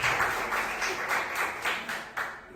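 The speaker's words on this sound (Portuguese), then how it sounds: "aplaude a Deus bem alegre para Jesus" A church congregation claps together in praise, a dense wash of applause with rhythmic pulses, fairly faint and continuous throughout.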